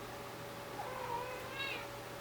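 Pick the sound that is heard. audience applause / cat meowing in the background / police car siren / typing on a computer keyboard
cat meowing in the background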